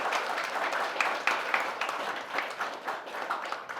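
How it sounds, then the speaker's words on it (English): An audience at an exhibition talk claps steadily, a dense wash of many hands at moderate distance, lasting several seconds without pause. "she deserves a big round of applause"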